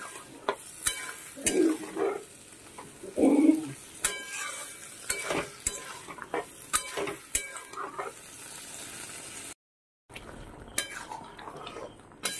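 Luchi made from wheat flour fry in a home kitchen, with soft sizzling under frequent clinks and scrapes of a utensil against the pan, and a few louder knocks in between.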